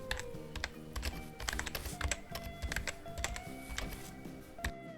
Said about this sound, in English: Let me type in the prompt for it.